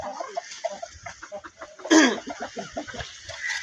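Hen clucking in a rural yard, a series of short, uneven clucks with one louder squawk partway through, fairly close.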